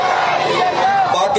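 A loud crowd chants slogans in unison at a Jamaat-e-Islami flag-hoisting ceremony in Karachi, with many voices shouting together close by throughout the short burst.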